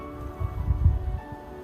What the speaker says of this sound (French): Le vent s'est levé là.